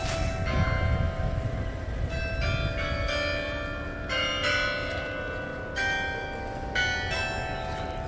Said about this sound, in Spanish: Escuchen las campanas.